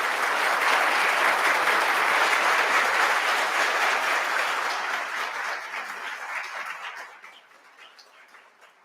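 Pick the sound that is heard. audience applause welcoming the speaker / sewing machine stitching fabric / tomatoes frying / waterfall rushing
audience applause welcoming the speaker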